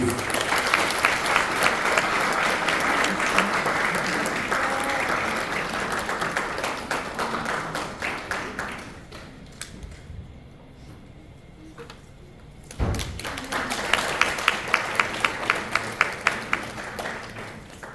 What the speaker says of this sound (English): A heavy round of applause, please.